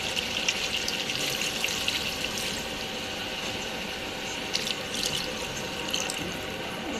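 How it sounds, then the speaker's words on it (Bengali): Water is poured into curry in a cooking pan, giving a continuous close splashing and hissing that lasts throughout, with a few louder bursts of bubbling. "এখন একটু পানি দিব।"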